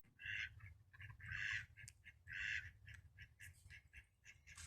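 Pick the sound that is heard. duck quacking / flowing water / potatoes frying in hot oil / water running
duck quacking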